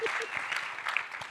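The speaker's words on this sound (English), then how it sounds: "Let's give her a round of applause" Audience applause after a speaker is introduced at a panel discussion on courts, law and the Jewish state, a steady wash of clapping with a few voices mixed in, moderately distant.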